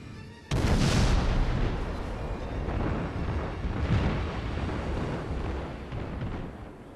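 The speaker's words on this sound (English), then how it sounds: "I might just bring my guns to bear on him." Warship main guns fire in World of Warships, first a sudden heavy blast, then a long rolling roar and rumble of artillery. It is loud and dense, with further boom swells close behind it and no voices.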